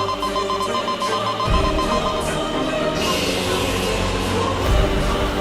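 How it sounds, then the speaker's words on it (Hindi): A security alarm rings in a TV show scene, a steady electronic ringing that keeps going over a dense, loud background of music and effects. "ये तो वीर लोग का सिक्योरिटी अलार्म है।"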